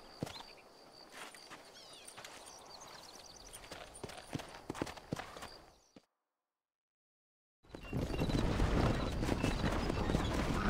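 Horse hooves clip-clop at a steady walking pace in the Western video game Red Dead Redemption, joined by ambient outdoor noise, then stop abruptly before a louder, denser stretch of game sound.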